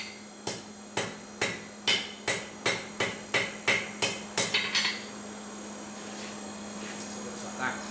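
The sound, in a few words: hammer forging a steel toasting fork on an anvil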